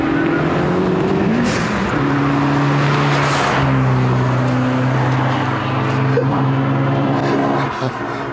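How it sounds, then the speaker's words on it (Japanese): A high-torque car engine drones loudly while the wheels spin, with a rising rev and a sustained tire hiss in the middle. It sounds close and continuous, with voices faintly mixed in. "もうホイールスピンしてますからね。"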